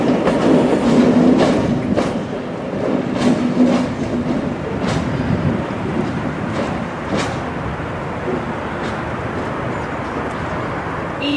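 A passenger train with locomotive 67005 Queen's Messenger on the rear rolls past at moderate distance near Peterborough, wheels clicking over rail joints in a repeated clickety-clack under a broad rushing roar that gradually eases off.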